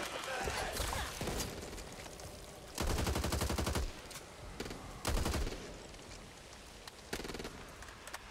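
Gunfire in the Back 4 Blood zombie shooter game: repeated bursts of rapid shots, including a long loud volley in the middle and scattered single cracks, over busy game ambience.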